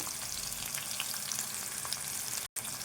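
Onion, green chilies and curry leaves fry in a pan, giving a steady, close, loud sizzle with faint stirring, cut by a brief silence near the end.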